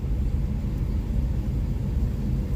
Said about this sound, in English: we'll just leave the truck running